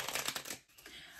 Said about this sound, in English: And then the numbers cards are the ones that she shuffles.